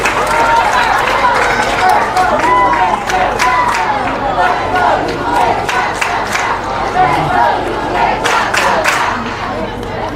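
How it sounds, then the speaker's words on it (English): A loud crowd cheers continuously at a 4th Region high school softball tournament game between Franklin-Simpson and South Warren after a South Warren run scores, with shouting voices mixed into the steady roar. "Cheers coming from the South Warren crowd after they go up 12-0"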